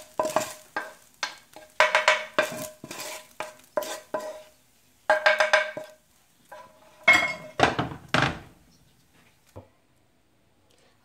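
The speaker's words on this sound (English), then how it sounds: "fry this for like 2 minutes or so, 2 to 3 minutes" A sticky fish and pepper mixture is stirred and scraped around a frying pan, with bursts of sizzling and the clatter and clink of a utensil against the metal in uneven strokes, close up and with no talk.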